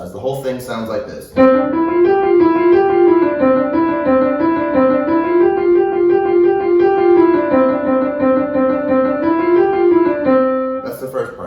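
A piano finger warm-up for speed and control rolls on as a steady, even run of rapid notes for about ten seconds, close and clear with no talking over it.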